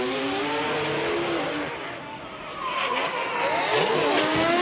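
Formula Drift Japan cars battle in tandem, Hokuto Matsuyama's Cusco Racing GR86 chasing Yutaro Oe's Good Ride Motorsports FT3S; loud, close engines rev and wail with steady tire squeal and skid noise, the pitch sweeping up and down throughout.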